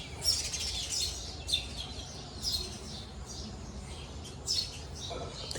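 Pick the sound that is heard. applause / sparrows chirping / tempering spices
sparrows chirping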